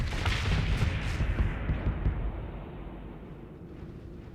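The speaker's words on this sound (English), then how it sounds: "This game really likes its flashbangs" Flashbang-like explosions in the space game Starsector, a dense rumbling barrage of booms and crackles that gradually fades into a softer low roar.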